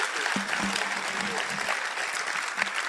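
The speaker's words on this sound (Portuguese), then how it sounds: "Bata palmas para Jesus." A church congregation in Mampong, Ghana claps hands during a lay ministry session, steady moderate clapping with faint voices underneath.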